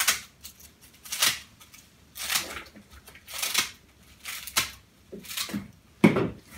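Scissors snipping off the ends of a bunch of bear grass for a floral arrangement, a series of crisp separate cuts spaced about a second apart, close and clear with no talk.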